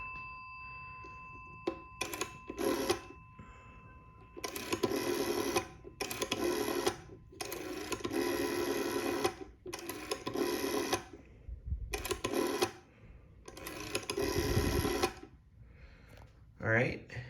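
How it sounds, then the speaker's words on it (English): Rotary dial on a 1957 PMG GEC 410 telephone: several bursts of whirring dial returns with clicking pulses, each a second or two long and separated by short pauses, fairly close and clear over faint background hiss. "I'll dial some numbers."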